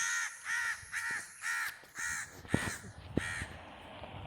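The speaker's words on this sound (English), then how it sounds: "that is a very noisy crow here" A crow in Malaysia gives a long run of rapid, harsh caws, about eight in a row, fairly close, with a few sharp clicks or taps mixed in.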